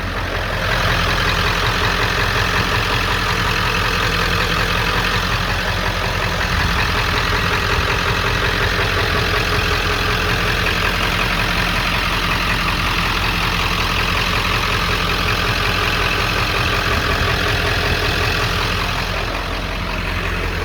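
A 1997 Ford F-250 pickup with a 7.3L Powerstroke diesel idles steadily and loudly close by, a constant low diesel rumble with no talking over it.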